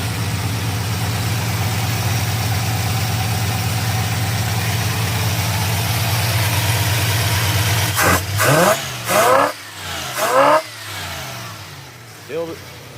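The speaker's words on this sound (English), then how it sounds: "Still the same engine I remember, hopping a little bit" A 1965 Fury's engine idles steadily with a low, even rumble, then it cuts out and a few clattering knocks and bumps follow near the end.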